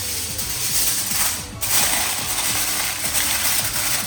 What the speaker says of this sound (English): now we're going to cover these with some aluminum foil.